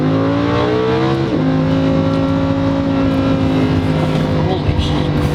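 Lamborghini Huracan supercar accelerating, heard from the cabin: a loud, continuous engine drone with strong rising and steady harmonic tones and a brief shift in pitch, loud and close throughout.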